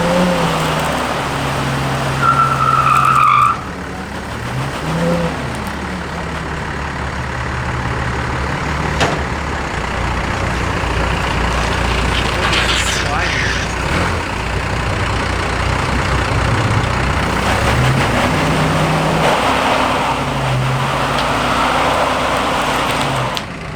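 A heavy truck engine drones and labors steadily, revving at times under load while pulling a boat up a boat ramp at Lake Havasu, with no talking.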